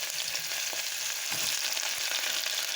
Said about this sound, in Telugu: ఆనియన్ ఫ్రై అవుతున్నాయి.